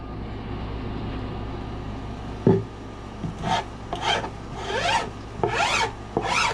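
A hand file rasps along the edge of a plywood cabinet in a shuttle bus build, a few slow scrapes followed by several quicker, louder swipes close by.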